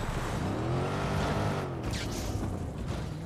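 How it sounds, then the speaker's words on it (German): Car engine rumbling and pushing through bushes in Watch Dogs 2, a steady loud drone with a rising and falling tone and a brief rustling brush of foliage midway, no talking. "ich fahre einfach durchs Gebüsch"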